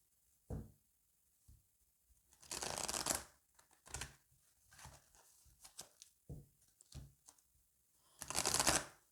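Oracle love cards are shuffled by hand during a card reading, giving several short papery riffling bursts with quiet gaps between them. Nobody speaks.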